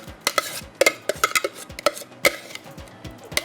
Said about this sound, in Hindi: अच्छी तरह से आपने इसको सब चीज़ों को मिक्स करना है।